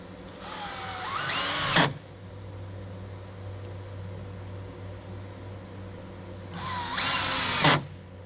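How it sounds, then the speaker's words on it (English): A power drill drives screws into wooden deck boards on a cabin porch, two separate bursts, each rising in pitch and ending abruptly, close by, with a steady low hum between them. "I'll run these other screws."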